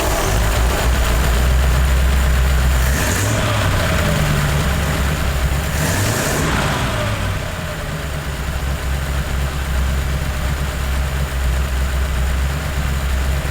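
A hot rod engine with twin carburetors and a freshly replaced carburetor power valve idles with a loud, deep, steady rumble, briefly rising and falling in two quick revs before settling back to a constant idle.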